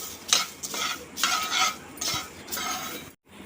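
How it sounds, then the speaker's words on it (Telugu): Fried curry leaves scooped from a pan onto a plate, several scraping strokes of a utensil against metal with light clinks over a faint sizzle, ending in a short silence. "ఇప్పుడు ఈ కరివేపాకుని కూడా మనం ఒక ప్లేట్లోకి తీసుకుందాం"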